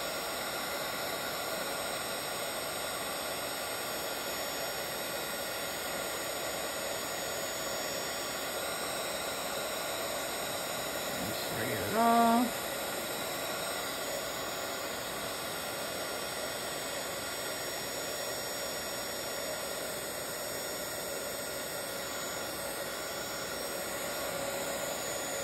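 A heat embossing tool blows hot air to melt embossing powder on a Bible journaling page, a steady, loud, even whoosh lasting throughout with no pauses, joined by a short brief tone partway through.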